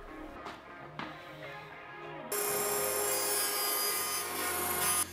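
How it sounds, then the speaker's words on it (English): Power saw cutting a dado across a wooden cabinet panel for a floating entry table: a few quiet taps and shuffles first, then the blade bites in with a sudden loud sustained whining cut that holds steady to the end. "Let's cut a dado."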